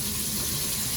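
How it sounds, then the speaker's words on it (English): Lukewarm water runs into a bin in a brief, steady gush of pouring liquid, close by and with no talking. "now I fill this bin with water"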